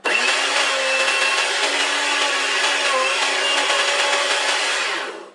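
A blender whirs at full speed on celery, a loud steady motor whine with a strained, churning texture that runs unbroken for about five seconds before cutting off.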